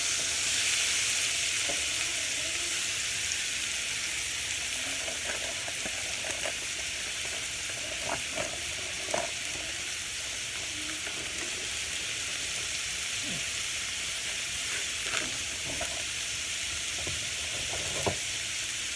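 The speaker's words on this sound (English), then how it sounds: "I'm just gonna mix these walnuts up with the onions and the oil and the garlic" Walnuts, onions, oil and garlic fry in a skillet over medium heat, a steady broadband sizzle running throughout with scattered clicks and scrapes of stirring close by.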